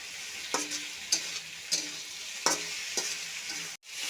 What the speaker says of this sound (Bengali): ভালো করে একটু সবগুলো মিশিয়ে একটু ভাজা ভাজা করে নেব